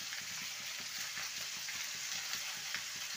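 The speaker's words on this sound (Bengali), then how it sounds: "আরও 2 মিনিট ভেজে নেব। ভালো করে নেড়ে নেব।" Mixed vegetables fry in a pan with a constant low sizzle and a rhythmic scraping of the spoon as they are stirred, fairly faint and without talk.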